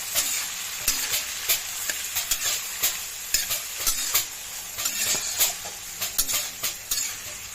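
Chopped carrot, capsicum and beans stir-fried for fried rice, a steady loud sizzle with repeated scraping strokes of a spatula against the pan, close and continuous, no voices.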